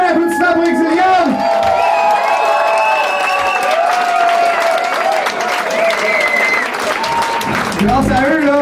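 An audience claps and cheers for a band at a live comedy-style show, loud sustained applause with whoops while a voice talks and sings over the crowd.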